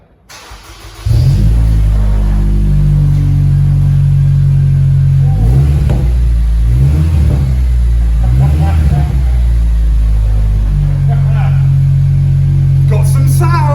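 A CL9 Honda Accord with a newly fitted exhaust starts up and settles into a loud, close idle, broken by several short rev blips midway before easing back; voices are faintly present.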